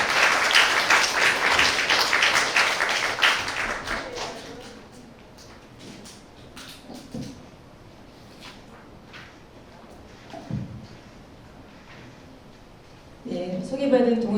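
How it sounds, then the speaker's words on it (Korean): An audience at a science forum on plastics claps as a speaker is called to the stage. The applause is dense for about four seconds, then fades to scattered claps and room noise before a voice speaks at the end. "여러분 박수 부탁드립니다"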